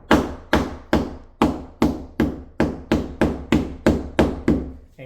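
Sharp, evenly spaced taps from the end of a drywall knife striking joint compound to make a divot, about eleven crisp knocks in a steady rhythm, close and alone.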